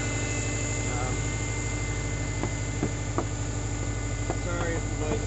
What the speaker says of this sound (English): Sorry if the noise is too loud. This is the motor.